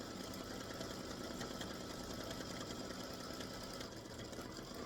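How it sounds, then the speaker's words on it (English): An embroidery machine sews a very small fill stitch for a patriotic baseball bat and stars appliqué block, giving a steady, continuous mechanical whir with fine rapid needle chatter throughout, fairly quiet and with no talking. "So this is a fill stitch that it is stitching, and it is a very small little fill stitch."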